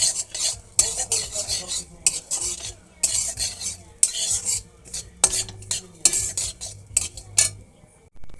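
Broken wheat (dalia) being stirred and lightly fried in a pan. A metal spoon scrapes and clinks against the pan in repeated strokes over a soft sizzle, close up with no talk.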